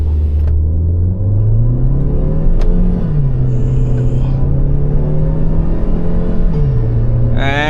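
A petrol SUV in sports mode accelerates hard, its engine roaring loudly up through the revs, easing off briefly and then climbing again, with a short high whine near the end, heard close from inside the cabin.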